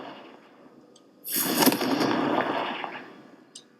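A Confringo fire spell blast in Hogwarts Legacy erupts as a sudden loud burst, then a roaring crackle that holds for over a second before fading, with faint chimes before and after.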